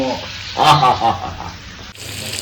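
Hands are rinsed under a running kitchen tap, the water splashing and changing as the hands move through the stream, with a brief voice-like sound partway through.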